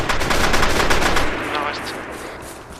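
Heavy automatic gunfire from a tree line in the military shooter game Arma 3, a loud dense burst of rapid shots that thins into a rolling, echoing tail.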